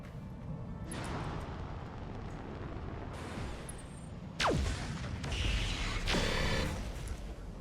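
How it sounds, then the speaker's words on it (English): Airstrike explosions in a tactical video game: heavy rumbling blasts over a constant roar, with a descending whistle followed by loud booms and crackling debris in the second half. "I'm going to have to continue standing in the middle of the airstrike"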